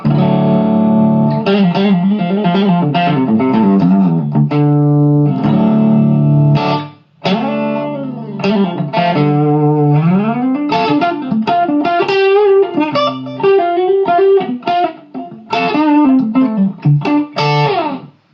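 An electric guitar on its second pickup through a Line 6 Spider V 240-watt amp with a lightly gritty tone strums chords and picks melodic runs, up close and loud.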